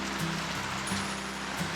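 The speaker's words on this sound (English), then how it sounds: "It's been raining for about a day and a half now" Steady rain falls on an off-grid homestead, a dense, even hiss holding constant and near throughout with no talk, under a low hum.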